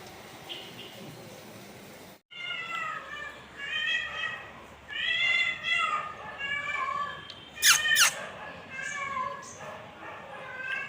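Cats, one named Rosie, fighting and yowling, drawn-out rising and falling wails and growls with a sudden sharp screech, close, with people talking in between.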